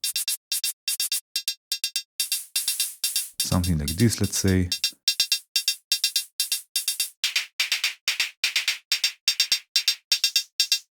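Synthesized hi-hat from Bitwig Grid layering noise and metallic tones, ticking in a steady fast pattern of short bright hits with some longer open hits, while a person talks briefly partway through.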